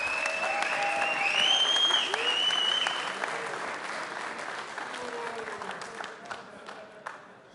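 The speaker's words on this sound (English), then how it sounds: "And you can hear the level of support for Sergei Kalachenko" Crowd at an East vs West XX fight press conference applauding and whistling in support of a fighter, loud at first and then gradually fading into scattered claps.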